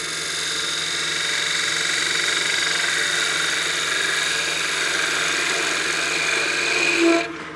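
Wood lathe spinning a utility box blank while a spindle gouge takes final passes, a steady loud whirring hum with a bright hiss of cutting that holds constant, ending with a brief bump near the end.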